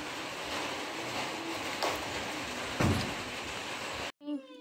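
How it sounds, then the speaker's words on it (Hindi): Rain falling overhead in wet weather makes a steady, even hiss that fills the scene for about four seconds, with a couple of faint knocks along the way. The hiss cuts out abruptly, and a brief voice follows at the end. "बारिश आ रही है ऊपर।"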